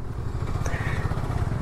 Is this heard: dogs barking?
no